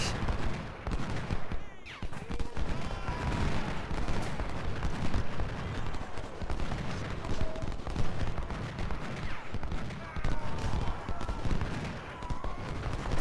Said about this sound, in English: And there's the artillery